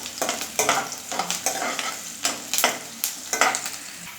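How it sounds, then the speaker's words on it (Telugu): Green chillies and onions fry in a pan, a close sizzle broken by repeated bursts of stirring and scraping in an irregular rhythm. "పచ్చిమిర్చి, ఉల్లిగడ్డ ఎర్రగా వేయించిన తర్వాత చికెన్ వేసేద్దాం."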